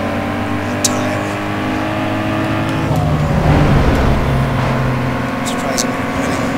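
A car engine in a video game drag race holds steady revs, then climbs and drops through a gear shift midway, loud and continuous under someone talking.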